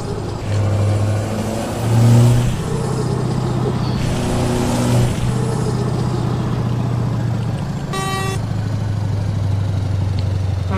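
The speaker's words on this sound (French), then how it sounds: "Ah, écoute-moi le bruit du camion." A truck engine in Farming Simulator 19 drones steadily at close range, swelling in two short revs, with a brief tonal beep near the end.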